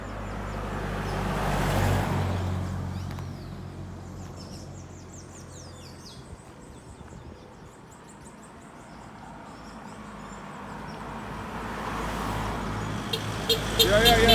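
Cars pass along a rural roadside at a blind corner in Groves, St. George, Barbados. Two broad swells of traffic rise and fade, one early and one near the end, with faint bird chirps in between.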